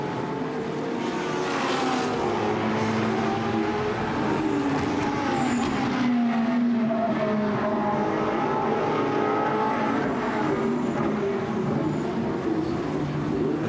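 GT race cars at the Misano circuit roar by, a steady engine drone with rising and falling pitch as the cars pass at a moderate distance, with no voices over it.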